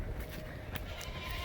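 Goats bleating to each other after being separated on a farm, a brief burst of calls at moderate distance over low background noise.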